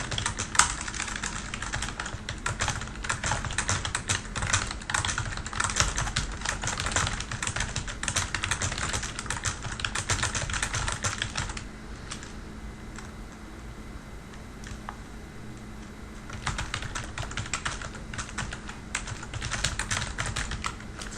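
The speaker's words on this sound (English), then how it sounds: "I could start typing stuff in." Steady typing on a computer keyboard, a continuous run of close key clicks for about twenty seconds, easing to lighter, sparser taps midway before picking up again; no voices.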